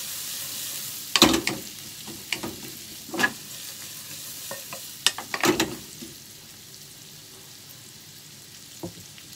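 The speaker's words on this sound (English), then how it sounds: "slow heat, then add sausage," Six sausages frying over slow heat for Japanese-style spaghetti Napolitan, a soft steady sizzle with occasional sharper clacks and stirring knocks of a utensil in the pan.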